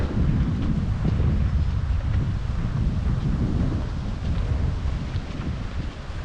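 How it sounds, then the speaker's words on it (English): Cold wind gusts across a woodland trail in Snake Den State Park, buffeting the microphone with a heavy, continuous low rumble and roar that barely lets up. "And as you can see, it is a cold and windy day today."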